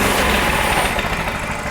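A pull-start motorbike engine revs loudly and close, a dense rough roar with a faint throttle swell, heard alone for under two seconds.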